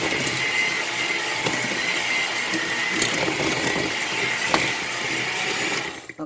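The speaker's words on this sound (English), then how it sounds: "She asked for egg yolk, and then I'm going to whisk that in there" Egg yolk being whisked into chocolate cake batter in a bowl, a steady continuous mechanical whirr like an electric mixer running throughout, with scattered small clicks and knocks, close and fairly loud, fading out at the very end.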